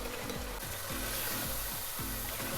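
Boiled urad dal poured into hot masala oil, giving a loud continuous sizzle and bubbling hiss with stirring scrapes, close up and with no talking.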